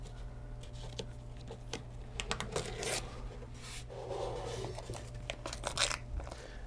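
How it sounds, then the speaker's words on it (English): Masking tape torn from the roll and pressed onto a guitar body being masked off around the neck and bridge, a run of close ripping and rubbing bursts, some sharp and some longer, over a steady low hum. "So I am taping the outside."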